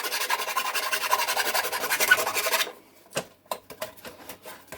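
A small hand file rasps steadily against a metal burr on a car part for a few seconds, close and fairly quiet, then stops and a few light taps and clicks follow.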